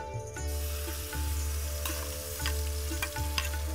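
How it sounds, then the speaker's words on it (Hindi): Soaked walnut paste and almond paste roast in ghee for halwa, giving a steady close sizzle with occasional scraping stirs of a spoon in the pan. "अब इसको अच्छे से भून लेंगे जैसे हम सूजी को भूनते हैं, ऐसे इसको भून लें।"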